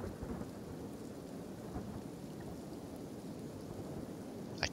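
Rain in the video game Kenshi falls as a constant, fairly faint hiss of steady downpour at night, with no talk over it.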